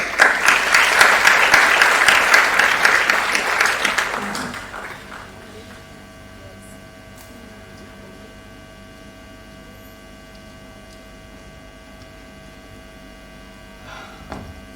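Audience applause at an investor awareness seminar, a loud sustained burst of clapping that fades out after about five seconds, leaving a steady mains hum under a quiet room.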